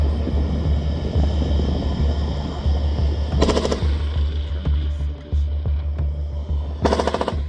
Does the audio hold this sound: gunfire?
yes